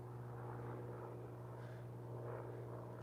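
An airplane climbs overhead after takeoff as a steady, distant engine drone with a low hum, staying even and faint the whole time with no talking.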